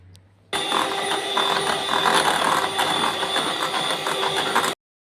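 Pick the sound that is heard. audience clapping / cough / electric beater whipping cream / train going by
electric beater whipping cream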